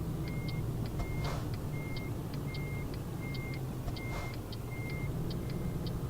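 Repeated electronic vehicle horn beeps in the truck-driving game Euro Truck Simulator 2, short evenly spaced pulses sounding over a steady low engine drone at moderate loudness, with no talk.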